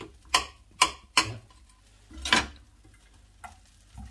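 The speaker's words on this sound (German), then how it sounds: "Wir lassen jetzt das Brot anrösten" Bakery bread toasting in butter in a frying pan for grilled cheese sandwiches gives a few sharp, irregular scraping sizzle bursts over a low pan hiss, close and fairly loud, with no talking.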